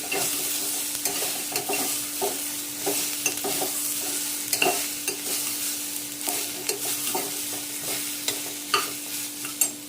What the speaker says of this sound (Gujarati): આપણે આની અંદર જે ટમેટું કાપીને રાખ્યું છે એ એડ કરી દઈશું. સરખી રીતે મિક્સ કરી દેવાનું